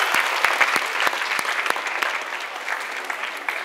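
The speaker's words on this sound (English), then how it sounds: "Give yourselves a round of applause," A talk audience on sustainability claps, a dense, steady wash of hand claps with a few sharper nearby claps standing out, holding fairly even for the whole stretch with no voices.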